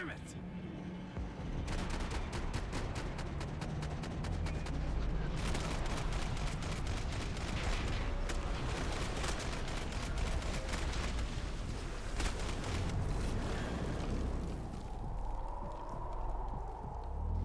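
Max Payne 3 firefight: dense, rapid gunshots crackle in long bursts and scattered single shots for many seconds, loud and continuous, then fade as the shooting stops.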